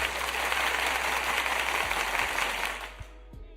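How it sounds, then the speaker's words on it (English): A round of applause from an audience in a talk setting, dense steady clapping that holds for nearly three seconds and then cuts off abruptly. "Let me give them a round of applause."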